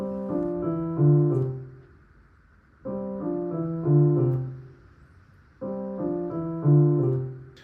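Piano plays a short five-note pattern in both hands, repeated three times with brief pauses between, gentle and even at a moderate level.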